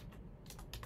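Quick typing on a computer keyboard while writing HTML in a code editor, several light close key clicks in a short burst with no talking.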